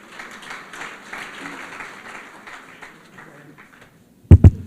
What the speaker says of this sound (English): Another hand of applause for advocate.